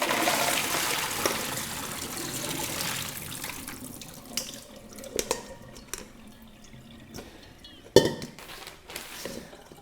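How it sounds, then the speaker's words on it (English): Soaked nuts are rinsed under running water in a sink, with a steady flowing stream at first that gives way to scattered splashes, drips and a sharp knock near the end. "I'll rinse them sort of 2 or 3 times, and just make sure the water is nice and clear"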